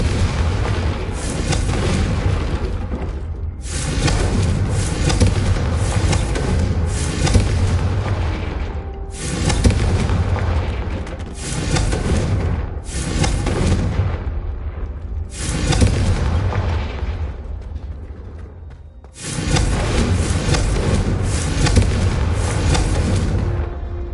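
Repeated Confringo fire-spell blasts in Hogwarts Legacy, a string of loud booming explosions roughly every three to four seconds, each with a heavy rumbling decay, continuous and without speech.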